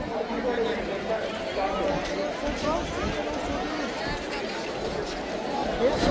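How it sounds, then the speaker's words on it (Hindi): Dense crowd of pilgrims and shoppers at Har Ki Pauri in Haridwar, a steady babble of many voices and footsteps filling the air without pause, busy market noise throughout. "बाज़ारों में भी अच्छी खासी भीड़ है"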